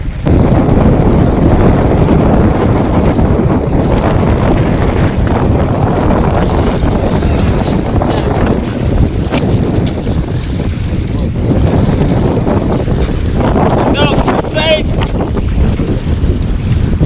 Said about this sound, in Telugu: ఘోరంగా వస్తున్నాయి అలలు మాత్రం.